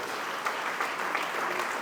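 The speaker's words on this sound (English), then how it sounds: "give her and the village board a round of applause" An audience applauds for a village mayor and board at a town spring fundraiser, a short burst of dense, steady clapping heard close with no talk over it.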